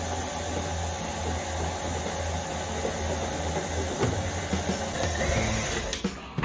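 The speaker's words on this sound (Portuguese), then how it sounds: "Misturou, vou parar a batedeira." A stand mixer with a dough hook runs steadily, mixing biscuit dough with a continuous motor whir and faint rhythmic churning before the sound stops abruptly near the end.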